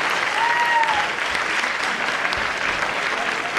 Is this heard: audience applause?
yes